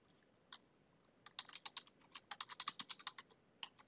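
Close, quiet clicking of fingers typing on a computer keyboard: a few isolated keystrokes, then a quick burst of rapid taps, then scattered final presses.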